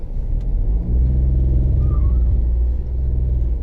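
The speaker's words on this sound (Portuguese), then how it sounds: "E agora vem o caminhão do lixo lá atrás." Low rumbling of a garbage truck passing behind a parked car in Porto Alegre, a steady engine drone that swells slightly in the middle and stays close, with no talking.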